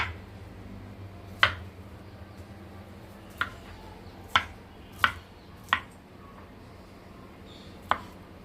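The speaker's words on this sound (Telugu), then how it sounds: "మనం ఇలా కోసేసుకుని దీన్ని ఇలా తీసేసుకుంటే" An organic dragon fruit being cut with a knife, with six sharp, separate chopping clicks spread irregularly over a quiet background hum.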